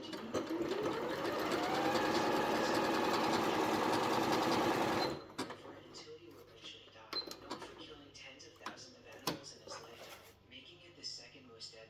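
Elna Excellence 680+ sewing machine stitching steadily and loudly for about five seconds, then stopping; quieter handling clicks and faint talk follow.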